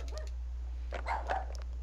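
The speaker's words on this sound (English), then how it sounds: "The dog, huh?" A dog in the game Rule of Rose gives a few faint, quick barks and yips, spaced apart over a constant low background hum.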